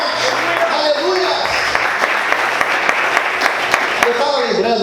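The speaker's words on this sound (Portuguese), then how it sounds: "Aplauda o Senhor, queridos, bem forte." A church congregation claps hard and steadily for several seconds, a dense wash of applause with voices and shouts rising through it.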